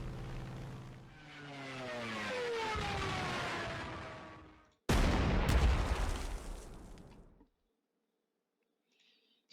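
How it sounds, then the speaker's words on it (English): Aircraft bombing run in a Panzer Corps 2 wartime strategy game: a droning plane engine swells for several seconds, then a loud burst of explosions and gunfire crackles and fades, leaving near silence. "We'll use our strategic bomber on this unit here. Our dive bomber on Riga."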